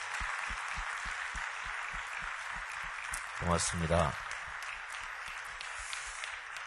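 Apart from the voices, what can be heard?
applause for church youth choir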